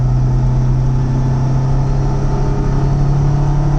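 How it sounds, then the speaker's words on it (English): A 1970 Lancia Fulvia Berlina engine pulling steadily in third gear, a smooth, continuous mid-pitched hum with a strong low drone, loud and close from inside the car, no talking. "It's third gear. Engine in this car is beautifully sweet."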